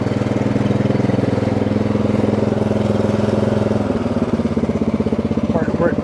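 A 2025 Cub Cadet CC30H riding mower idles steadily with its PTO blades engaged, a continuous low mechanical drone that shifts slightly near the end while a person talks over it.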